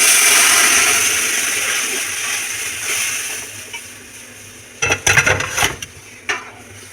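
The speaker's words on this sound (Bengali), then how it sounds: "দেখুন হয়ে গেছে, এবার ডালটা ঢেলে দেবো।" Lentil dal is poured into a pan of browned fried onions, a long hissing sizzle that fades, followed by a few sharp clanks of a utensil against the pan.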